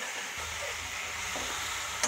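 Tomatoes sautéing with salt in a pan for plain kurma, a steady moderate sizzle with a faint stir or two and a brief knock at the very end.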